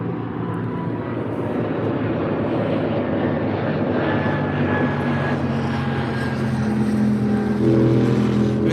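A passenger jet taking off from Heathrow Airport bound for Manchester, a continuous distant roar of jet engines growing slightly louder toward the end, heard alone without talk.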